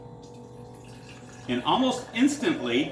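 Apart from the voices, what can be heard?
Myvision portable electric water pump pumping water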